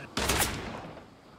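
Gunfire in a video game, likely dual pistols, bursts in as a sharp loud volley of shots that rings out and decays over about a second.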